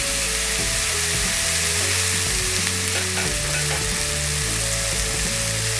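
Steady, loud sizzling of food frying in a hot pan, a continuous crackling hiss with a low hum underneath, no voices.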